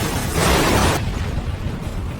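A car in a Korean drama crashes and explodes, a loud broad burst that roars for about a second and then drops to a lower rumbling fire.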